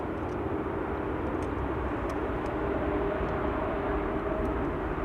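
Airbus A340 taxiing at Amsterdam Schiphol Airport, a steady, dense engine roar holding constant throughout with no breaks, moderately distant and without talk.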